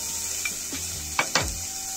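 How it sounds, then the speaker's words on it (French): Vegetables and garlic cloves cooking on a flat plancha griddle with a steady background sizzle, a few brief scraping and tapping stirs, and two sharper knocks near the end. "On vient disposer bien nos petits légumes partout sur la plancha."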